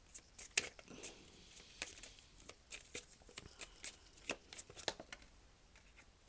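Tarot cards shuffled and drawn in a quiet room: a quick run of soft, crisp flicks and slaps, faint and close, with no talking.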